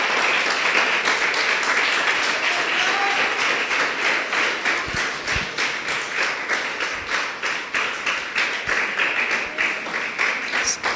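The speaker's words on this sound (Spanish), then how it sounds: "Vamos a dar un aplauso fuerte al Todopoderoso y vamos a ponernos sobre nuestros pies." A church congregation claps loudly together during a Spanish-language service, a sustained wash of applause with a rhythmic, regular pulse of unison clapping running through it for eleven seconds, with no talk over it.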